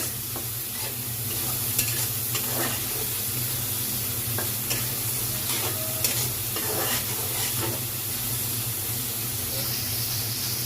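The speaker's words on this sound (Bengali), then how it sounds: "চিংড়ি মাছটা কষানো হয়ে গেছে, এখন আমি লতি দিয়ে দিব।" Shrimp sautéed with mustard in a pan gives a steady hissing sizzle, with soft scraping stir strokes scattered through it.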